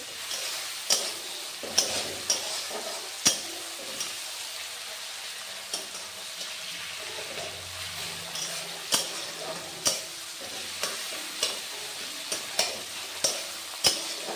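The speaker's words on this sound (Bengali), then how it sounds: "পেঁয়াজটা ভাজা ভাজা হয়ে গেছে, টমেটোটা গলতে শুরু করেছে।" Onion softens and tomato melts down in a pan, giving a soft, steady sizzle punctuated by regular sharp clicks of a utensil stirring against the pan, heard up close.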